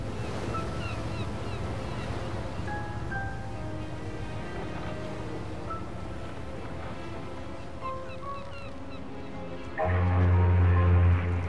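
Ocean waves during a sea crossing from Sicily to America in Mafia 2: a broad, steady wash of sea and wind under soft musical tones, growing louder and deeper near the end, with no voices.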